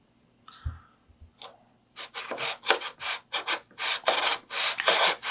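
Basswood sanded to a 10-degree angle on a Sand It board with a miter gauge: a few light scrapes at first, then a steady run of close, rhythmic rasping strokes.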